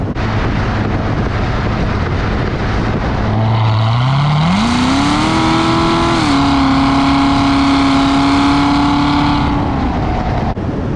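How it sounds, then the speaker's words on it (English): A Corvette engine revs up under throttle as its exhaust valves open, the note rising and swelling into a loud, sustained roar before easing off, heard close with no talking. "as I'm getting in the throttle, you can see and you can hear, you know, that the valves, obviously, they open up"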